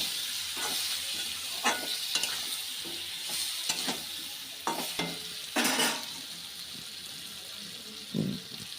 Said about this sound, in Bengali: আবার কিছুটা সর্ষের তেল আর কিছুটা জিরে ফোড়ন দিয়ে এগুলোকে হালকা করে ভেজে নেব